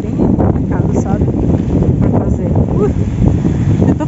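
Blustery wind and rain outdoors in Gramado on a cold day, a steady roar buffeting the microphone throughout, with no clear voices.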